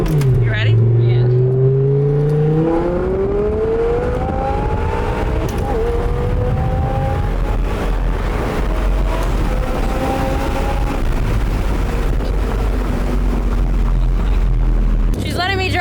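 Supercharged Audi R8 with a manual six-speed pulls hard from inside the cabin, its engine note rising through the gears in long climbing sweeps, loud and continuous, while people talk over it.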